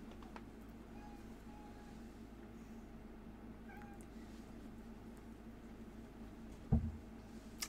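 An indoor mother cat with kittens meows faintly over a steady low background hum, and a brief thump sounds near the end.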